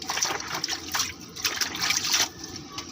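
Taro leaves washed one by one under running water, a close trickle and splash of water on leaves with uneven bursts as the leaves are handled.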